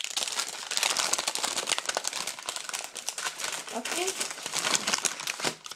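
Crinkly wrapping being pulled off a handmade Lush cosmetic bar, a dense run of close crackling and rustling that fills the clip, with a brief spoken word partway through.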